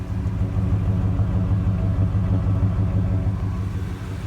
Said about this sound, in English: will not end the video without starting the truck so people can hear how it sounds